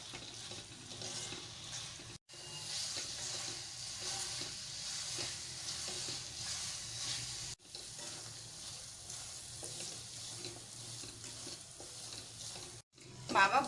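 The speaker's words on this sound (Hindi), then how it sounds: "अब इसमें डाल देंगे दूध, और फिर इसे दूध जलने तक भूनेंगे" Mawa (khoya) with milk is roasted in a pan, soft sizzling under repeated stirring and scraping, close and fairly quiet, with a few brief cuts in the sound.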